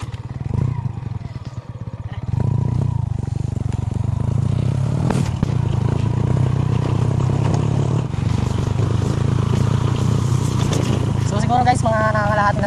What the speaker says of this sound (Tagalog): Medyo bumisyon yung motor natin.